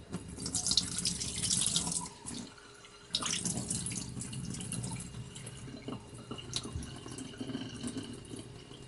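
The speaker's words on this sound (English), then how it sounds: "Fill the water, drain it again, fill the water, do it." Running tap water fills a container of freshly caught smelt, then pauses briefly and starts again, a close, steady splashing stream with some dripping while the fish are rinsed and drained.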